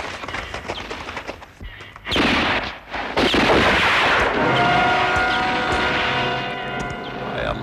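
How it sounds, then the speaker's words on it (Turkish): Gunfire in a 1970 Turkish film scene, loud bursts of rapid shots and blasts in a noisy battle soundtrack with short gaps between volleys. "Silah sesleri Ayılar Vadisi'nden geliyor."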